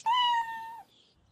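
A cat gives a single clear, drawn-out meow of under a second, close and alone, fading into quiet.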